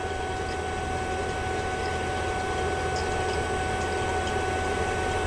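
An MG44 vacuum pump runs steadily while pulling down an HVAC system, a continuous even mechanical hum and hiss with no change in level and no voices.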